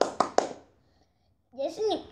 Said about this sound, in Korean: 예수님 박수.